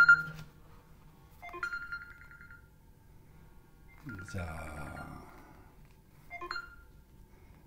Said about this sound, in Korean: 전화가 와서 전화를 끄고